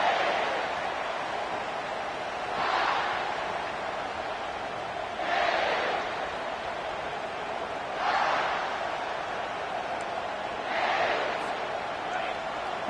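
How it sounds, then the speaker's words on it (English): Stadium crowd noise at a college football game against Clemson, a steady broad roar with swelling cheers about every two to three seconds, distant and continuous with no clear talk. "Listen to the crowd energy here in the early going."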